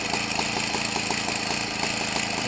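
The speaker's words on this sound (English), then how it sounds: "Very smooth running engine." Steady, loud buzz of a Homelite Textron 25cc gasoline model-aircraft engine spinning an 18-6 Master Airscrew propeller, holding an even high-rpm drone for the whole stretch.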